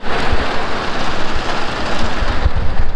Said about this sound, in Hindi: जैसे ही निकले हैं फिर से बारिश स्टार्ट हो गई